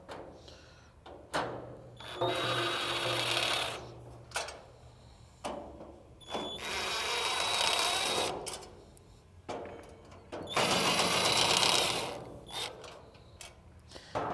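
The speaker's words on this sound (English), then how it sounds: "we're going to remove these 3 screws on the flame runner. You'll need a Phillips screwdriver or drill" A power drill whirs in several bursts of a few seconds each, removing screws from a gas griddle's burner, with short pauses and mechanical clicks between runs, close by.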